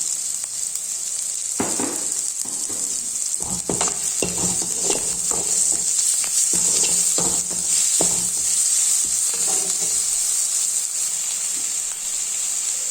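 Onion, tomato and chilli powder sautéing in a pan for idli manchurian, a constant close hiss of frying with repeated scraping strokes of a spatula throughout, no voices.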